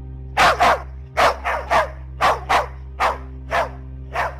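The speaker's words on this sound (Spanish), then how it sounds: "los dos perros que se encargaban de custodiar el angosto caminito que bordeaba el muelle emprendieron una tanda de ladridos descontrolados" Two dogs barking close by in a frantic run of about nine sharp barks, some doubled, over a steady low hum.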